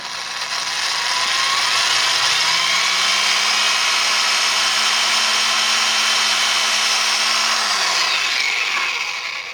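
A power drill whines steadily through a Telecaster guitar's wooden body, drilling bridge stud holes for a Bigsby vibrato, a loud continuous grinding hum that rises in pitch and then winds down.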